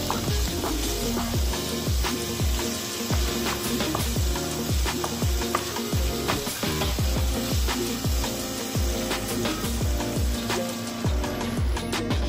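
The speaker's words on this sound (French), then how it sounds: "On va faire revenir le tout environ 5 minutes, histoire de pas trop cramer non plus les lardons." Lardons frying in a pan for a gnocchiflette, giving a dense, steady sizzle broken by repeated scraping and stirring strokes throughout.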